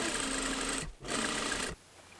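A sewing machine runs steadily while stitching a quarter-inch sleeve seam on a dress, making a continuous whirring hum. It pauses briefly, runs again for about a second, then stops.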